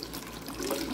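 Room-temperature water is poured slowly into a homemade laundry soap mixture, a soft, close, continuous trickling and splashing that is fairly quiet.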